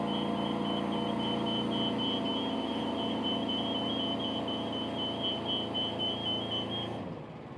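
An Athena 1090 BL machine being driven, a steady motor drone with a thin high whine running throughout, close and continuous, cutting off sharply near the end.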